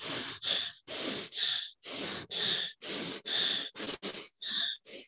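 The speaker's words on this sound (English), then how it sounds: "We're gonna breathe very fast." Rapid, forceful breaths during a group breathing exercise, about a dozen loud, hissing inhale-exhale bursts in a quick steady rhythm with short gaps, close and clear without talk.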